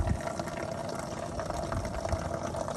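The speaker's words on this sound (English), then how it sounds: "Randy's got the shower running in there" A shower runs inside a box truck, giving a continuous rushing spray of water that stays steady and moderately loud throughout, with no voices.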